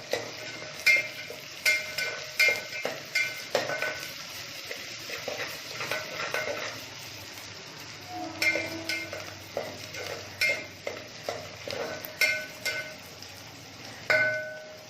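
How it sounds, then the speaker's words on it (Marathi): Onions with salt sauté in a pan, a soft sizzle running throughout while a spoon scrapes and taps the pan in a steady series of clinks, close but fairly quiet. "परतून घ्यायचं मीठ कांद्यामध्ये"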